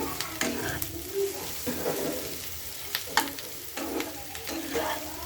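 Bottle gourd peel being stirred in a frying pan for a shrimp mash, with a steady sizzle beneath repeated scraping strokes of a spatula and a sharper clack midway, close and fairly quiet.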